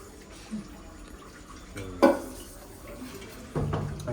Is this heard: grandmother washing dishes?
yes